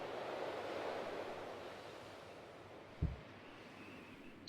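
Heavy rain pours down in SimCity 4 as a steady, broad hiss that fades slightly over a few seconds, with one brief low thump partway through.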